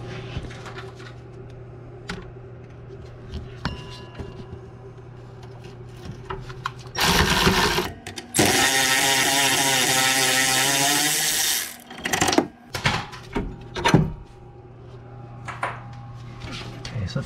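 A power tool runs on a 10 millimeter bolt during ABS sensor and hub replacement on a 2014 Honda Pilot: one loud, steady whirring burst of about four seconds, followed by a few short clanks and rattles.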